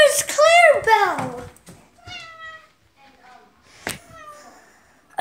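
A cat meows several times, loud and close, with drawn-out rising and falling cries at the start and shorter calls after, in a quiet room with a few faint knocks between.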